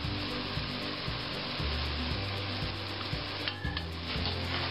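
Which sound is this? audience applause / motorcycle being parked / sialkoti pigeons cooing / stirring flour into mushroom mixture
stirring flour into mushroom mixture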